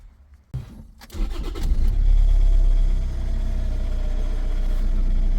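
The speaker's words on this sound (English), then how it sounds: "Now let's start the car and we will see how it going." A Toyota car with an MMT semi-automatic gearbox cranks briefly and fires up, then settles into a steady, rumbling idle, heard close by with no talk.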